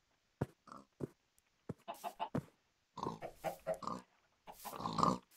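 Pigs in a blocky Minecraft-style game grunt and oink in short, separate bursts that grow into clustered squeals, close and clear, with no talking over them.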